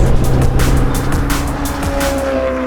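A loud LS V8 engine of a 650bhp custom Porsche roars and revs close by as the car drives hard, with repeated throttle surges and a hint of tire squeal, no voices.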